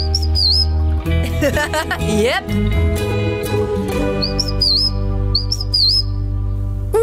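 Cartoon bird chirps, a few high, quick whistled tweets at the start and in the second half, heard over a steady music bed, with an animated character's voice speaking and exclaiming in the middle.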